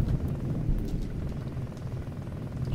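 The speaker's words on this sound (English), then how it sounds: "It's raining heavily outside." Heavy rain falling outside comes through as a muffled, constant low rush, a thick even wash of sound heard from indoors with no talking.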